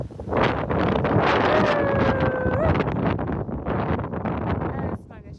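Strong wind buffets the microphone outdoors where a scarlet macaw is flying, a loud, continuous roaring rumble lasting most of the clip before easing near the end, with a brief whistling tone partway through.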